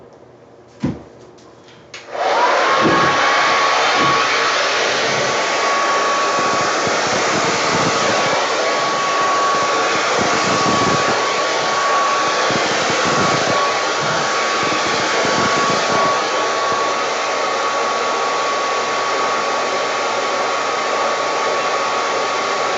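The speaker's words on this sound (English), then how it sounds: "we'll get out that hair dryer and see what we got" A hair dryer blowing on wet pour-painted canvas switches on after a couple of clicks and blows steadily with a loud, constant whine, running without pause and with no talking.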